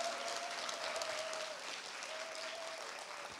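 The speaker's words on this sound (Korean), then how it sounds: "우리 신영철 교수님을 여러분 큰 박수로 맞이해 주시기 바랍니다" An audience at a mental health talk-and-music concert gives steady, dense applause to welcome a professor to the stage, a continuous wash of many hands clapping, with a faint sustained tone beneath.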